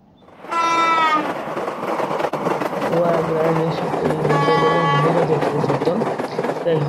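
A train passes a level crossing in the Train Crossing Simulator video game. Two loud horn blasts sound over a continuous rolling rumble of wagons on the track.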